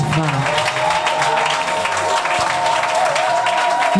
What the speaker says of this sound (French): Non, élevons la main et remercions, acclamons Jéhovah.